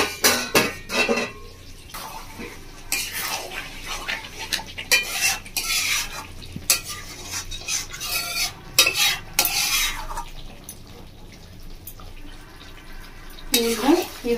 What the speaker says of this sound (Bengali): ঢাকা চাপা দিয়ে দিয়ে কষিয়ে নেবো।